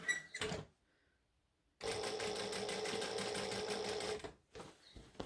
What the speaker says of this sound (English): But I'm going to stitch the whole thing.